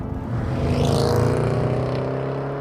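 A 2021 Jaguar F-Pace SVR engine droning while driving, a loud, steady low rumble that swells slightly as the SUV pulls along, with no talking.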